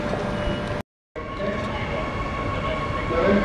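Rumbling passenger train, the Spirit of Queensland from Cairns, arriving at a platform with a sustained horn-like tone, briefly cut to silence, then the train's rolling noise continues close by.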